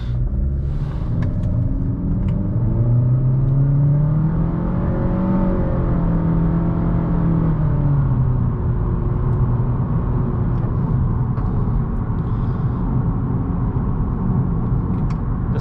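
Car engine drones steadily from inside the cabin while driving the twisting Tail of the Dragon road in Tennessee, with pitch rising and falling through revs and a constant loud rumble throughout.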